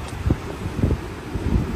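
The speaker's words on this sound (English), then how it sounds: "Some of those gusts of wind are really, really strong." Strong gusts of wind outside a home, several low blustery thumps of wind buffeting the microphone in quick bursts over a steady hiss, with no voices.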